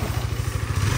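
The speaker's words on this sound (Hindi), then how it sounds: "वहाँ से आ रहा है यासर भाई अपनी KTM RC 390 पे" A KTM RC 390 motorcycle rides up nearby, its single-cylinder engine giving a steady, pulsing low rumble with some mechanical clatter throughout the short stretch.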